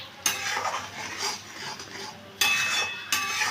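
A utensil stirs and scrapes masala with Kashmiri chilli powder and coriander powder in a pan, clinking against the metal in short bursts with a light frying sizzle beneath.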